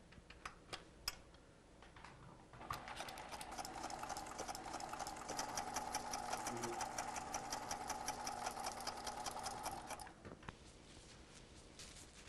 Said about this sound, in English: You just need to run one stitching line along the sewing machine.